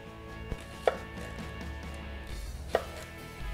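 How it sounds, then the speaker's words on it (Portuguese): A knife slices through the sides of an apple on a cutting board in a kitchen, with two sharp, distinct cuts spaced a couple of seconds apart against a quiet background. "Vou pegar a maçã aqui e cortar"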